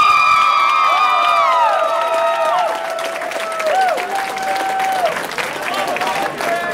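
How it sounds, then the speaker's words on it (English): A crowd at a gathering honoring a newly married pilot breaks into applause, with loud cheering, whoops and high shouting voices riding over steady clapping that stays strong and close throughout. "Let's give a round of applause."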